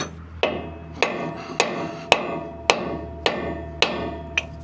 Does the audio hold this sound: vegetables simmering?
no